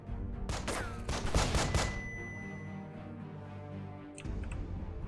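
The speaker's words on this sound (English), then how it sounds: "we're going to have some shots off from Joe" A rapid burst of gunfire in the tactical video game Breach and Clear: several sharp, loud shots cluster in the first two seconds, followed by a ringing tone and a quieter hum, with a short clatter near the end.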